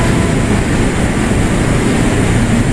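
A commuter train pulls into Tanah Abang station, a loud, steady rumble and broadband roar of rolling wheels filling the platform without a break.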